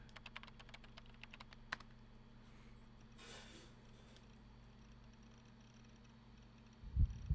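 Rapid keyboard typing in the visual novel Chaos;Head Noah, a quick run of crisp, close key clicks at the start, then a quiet hum with a faint swish, and a low thump near the end.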